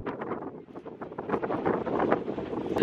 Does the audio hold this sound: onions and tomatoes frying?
no